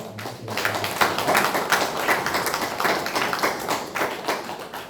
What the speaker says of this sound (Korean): 우리 격려의 박수로